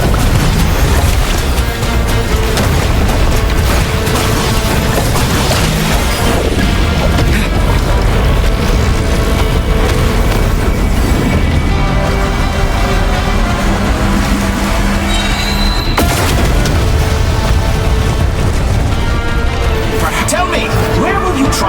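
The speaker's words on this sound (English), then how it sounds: "Bombs away!" Bombs go off in a video game battle, dense booming blasts layered under continuous music and effects for about twenty seconds, with a character's voice talking over them.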